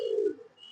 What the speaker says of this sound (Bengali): 36 পিস আছে আমার কবুতর